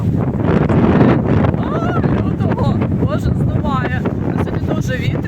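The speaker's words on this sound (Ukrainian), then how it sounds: "Е, бачите, дуже вітряно." Strong seaside wind at a Red Sea resort in Sharm El Sheikh buffets the microphone in a steady roar, with a voice talking over it and brief chirping tones cutting through.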